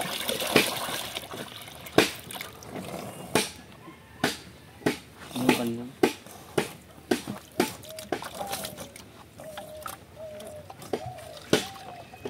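Water mixed with wheat bran and salt is stirred by hand for cow feed, making a series of close, repeated sloshes and splashes at a loose rhythm; a voice speaks briefly in between.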